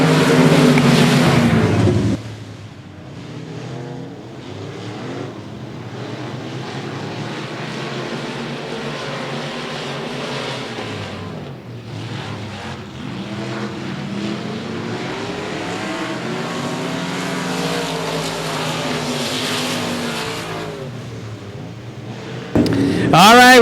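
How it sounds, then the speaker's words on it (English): Race cars roar past at a dirt speedway at the green flag, a dense, sustained engine drone with revving swells and a loud close pass at the start and end, alone without talk. "here we are, green flag racing."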